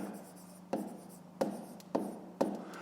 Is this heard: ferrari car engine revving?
no